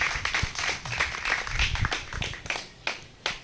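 A congregation at a Torah portion service claps and applauds, producing a short burst of scattered, uneven hand claps at moderate loudness, close and with no talking over it.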